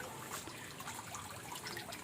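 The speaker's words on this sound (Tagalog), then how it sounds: "Kita mo yung tampisaw ng tubig." Tilapia splash and churn at the water surface of a tarp pond as they feed, soft close trickling and dribbling sounds, quiet and continuous.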